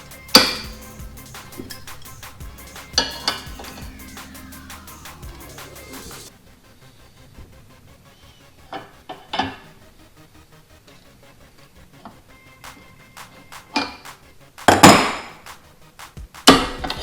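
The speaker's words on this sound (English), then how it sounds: "Now this wing here, you're going to bend it the same way." Metal clanks and sharp hammer-like strikes from bending a steel wing piece for a DIY off-road bumper on a Jeep Cherokee XJ, with a busy stretch of ringing impacts, a quieter gap, then scattered hits and a loud burst near the end.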